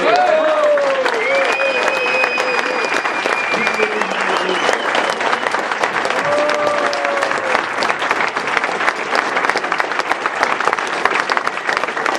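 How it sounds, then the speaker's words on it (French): An audience at a Quebec political rally applauds René-Marcel Sauvé with sustained loud clapping that fills the whole stretch, while a voice briefly sounds over it near the start. "Je vous demanderai d'applaudir M. René-Marcel Sauvé"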